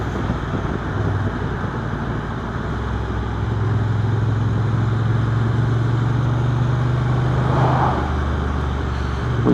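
Honda NT1100 DCT motorcycle rumbling along a road in Northern Ireland: a steady, low engine drone with wind and road noise throughout, its pitch rising slightly as it settles into a constant hum, with no voices.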